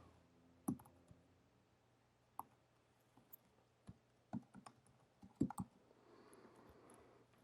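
Sparse, sharp computer mouse clicks at a desk, single and occasional double taps spaced irregularly, close but quiet against a faint room hum.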